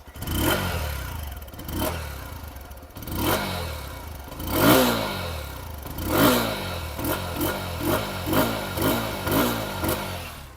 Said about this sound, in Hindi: फटाफट से करते हैं रैप एंड सुनते हैं एग्जॉस्ट नोट बढ़िया करके,